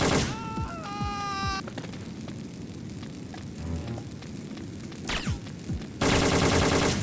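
Bursts of automatic machine-gun fire from the video game Syphon Filter 2, rapid rattling volleys over a rumbling game soundscape, loud and close, with a sustained burst near the end.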